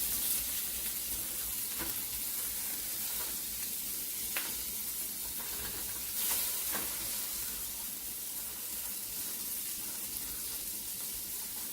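Canned corned beef and egg sizzling and frying in a buttered pan, a steady close crackling hiss with a few sharper pops throughout, no talking.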